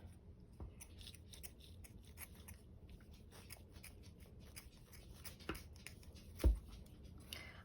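Quiet, close snipping and crunching of scissors cutting through fabric, with scattered irregular cuts and one sharper snip near the end; no talking.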